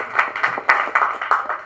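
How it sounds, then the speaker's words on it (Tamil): A small crowd at a film audio launch claps briefly, a few quick uneven close claps with no talking. "அதனால் தயவு செஞ்சு நீங்களே ஒரு தடவை கைத்தட்டிடுங்க"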